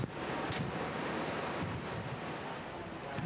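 Steady wind and surf at sea off Marado, Korea's southernmost island, with a continuous broadband rush and wave wash close to the microphone, a little wind buffeting and no voices.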